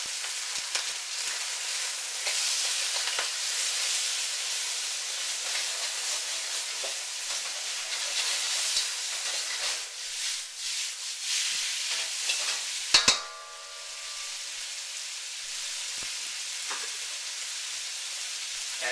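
Minced garlic and ginger fry in oil in a wok with a steady, bright sizzle, stirring scrapes throughout and a sharp clatter partway through before the hiss settles down.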